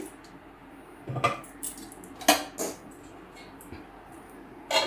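Lid set onto a pot of dal simmering with hot water on a gas stove: a few sharp metallic clatters and knocks, close and fairly loud, separated by quiet stretches.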